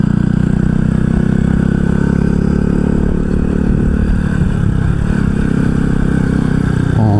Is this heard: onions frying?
no